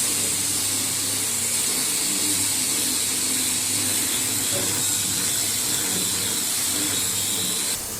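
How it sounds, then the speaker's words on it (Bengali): A grinding machine works on a wooden wardrobe frame in a Dhaka furniture workshop, giving a loud, steady, hissing grind that runs without pause for about eight seconds and drops off right at the end. "এই যে এবার এক ভাই গ্রাইন্ডিং মেশিন দিয়ে গ্রাইন্ডিং করতেছে"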